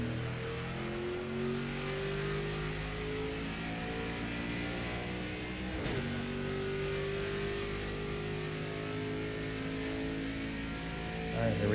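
Multiple NASCAR race car engines in the NASCAR 25 video game drone and rev steadily together, several overlapping engine tones holding loud and close throughout, with a brief dip and surge midway.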